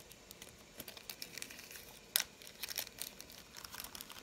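Plastic bag crinkling while unboxing a PT-76B model kit from Alex Miniatures, a small bag holding a turned barrel part: soft irregular rustles and crackles close by, with one sharper crackle midway, quiet and without talk.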